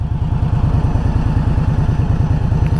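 An Indian Scout Bobber's V-twin engine, around 1200 cc, idles with a steady, loping pulse, even thumping beats repeating close and loud with no voices over it.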